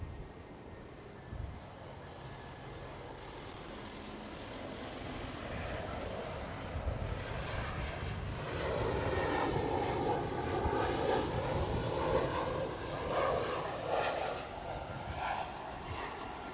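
An EasyJet airliner at Amsterdam Schiphol Airport passes with a broad jet engine roar that swells and sweeps in pitch, building from a distant rumble to a loud, close pass and holding there.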